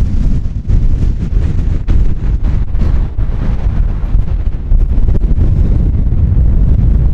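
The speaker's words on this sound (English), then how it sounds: "And it is windy." Strong wind on a hilltop at Winnats Pass buffets the microphone in loud, rumbling gusts that roar continuously with sharp bursts throughout.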